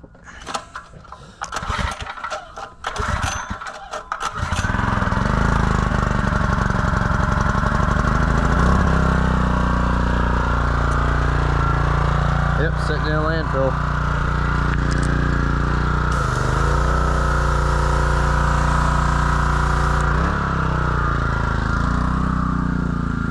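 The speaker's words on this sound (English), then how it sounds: "All right, let's give her a cold start" A mud-caked small engine is pulled over by hand from cold, coughing through several rough bursts before catching and settling into a steady, loud idle that runs on to the end with slight pitch shifts.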